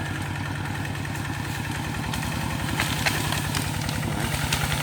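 A small three-wheeled farm tractor engine running steadily nearby, a rhythmic low chugging putter that continues without letup.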